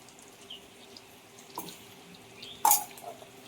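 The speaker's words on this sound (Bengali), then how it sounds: "একটু জল দিয়ে ভালো করে গুলিয়ে নিয়ে দিয়ে দিচ্ছি" Water is poured into a ground spice paste and mixed by hand in a home kitchen: a faint, brief splash and slosh followed by a sharper wet burst, with quiet room tone around it and no talking.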